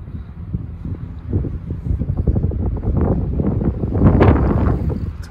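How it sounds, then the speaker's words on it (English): Gusty wind buffets the microphone on a mountain bike trail, a broad rumbling roar that swells and builds toward the end, close and loud, with no speech. "It's windy,"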